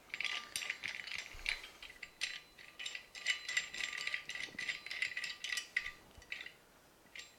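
Metal bolts on a monitor mount rattle, clink and ratchet in irregular bursts as they are moved and adjusted, close by and fairly quiet, with no talking.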